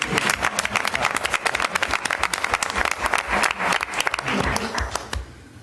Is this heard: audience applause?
yes